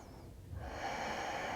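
A single deep breath during a yoga vinyasa flow, heard as a faint, close, airy rush of breath that swells after a short pause and holds, with no talking.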